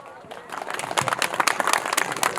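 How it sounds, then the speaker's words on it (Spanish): Applause builds at a silver wedding anniversary celebration in Pallpata: clapping swells after a quiet opening and continues steadily, fairly close and dense, with voices mixed in. "¡Los fuertes aplausos!"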